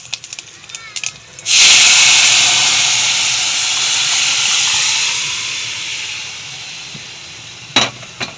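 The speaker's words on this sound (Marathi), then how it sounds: "त्यात आपण डाळ ओतून घेऊ।" A few faint clicks, then a sudden loud sizzling hiss erupts as cooked dal is poured into a hot tempering of mustard, cumin and curry leaves, staying strong before slowly settling into a softer sizzle.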